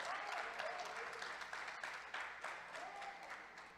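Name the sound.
congregation applause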